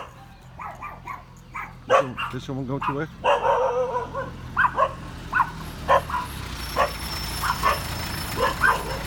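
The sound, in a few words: dogs barking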